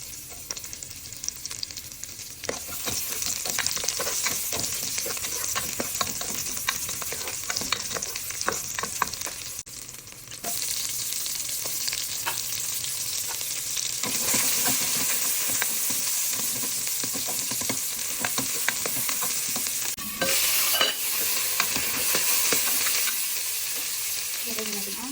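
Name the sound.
onion and garlic sautéing in cooking oil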